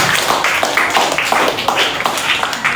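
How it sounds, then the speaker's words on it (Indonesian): A university classroom of students claps together for classmates who gave feedback, a steady run of close, rhythmic hand claps without speech. "Tepuk tangan untuk yang memberi tanggapan."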